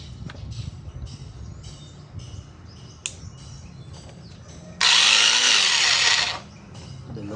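Newly unboxed hammer drill, sold for breaking cement, running unloaded in one loud steady burst of about a second and a half, set between quiet handling sounds and clicks.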